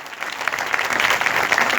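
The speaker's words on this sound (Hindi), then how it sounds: "हम यीशु के लिए बजा रहे हैं। आए जोरदार तालियां," Loud, sustained applause from a crowd at a live Christian praise and worship event in Larkana, steady dense clapping throughout with no pauses.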